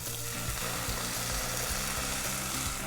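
Vegetables and sausages frying gently in a pan produce a dense, continuous sizzle with a few soft stirring knocks, close and steady throughout with no talk.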